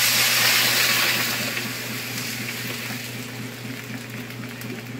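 Water is poured into a cooking pot for pork sinigang with mango, a strong close gush that gradually softens into a steadier flow.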